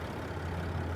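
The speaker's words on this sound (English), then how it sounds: "you can hear that purr of that diesel engine" A motorcoach's diesel engine idles steadily, a low continuous rumble holding at an even level throughout, close by and with no talk over it.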